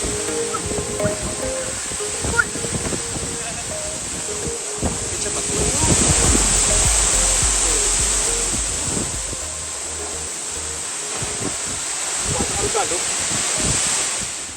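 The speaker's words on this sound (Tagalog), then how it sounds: "isa ini sa pinakamatahom nga waterfalls nga nakadtuan ko" Water pours steadily at Bambi Falls, a broad rushing noise that swells and eases while wind buffets the microphone and a voice talks over it.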